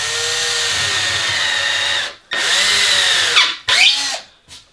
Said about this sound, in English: Drill your pilot all separately.